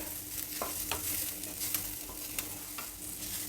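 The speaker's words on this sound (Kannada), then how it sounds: "ಒಗ್ಗರಣೆಯಲ್ಲಿ ವಡೆಗಳನ್ನೆಲ್ಲ ಹುರಿದಿದ್ದಾಯಿತು" Taro leaf vadas fry in a spice tempering, giving a soft steady sizzle with scattered stirring clicks and scrapes, close but fairly quiet, with no one speaking.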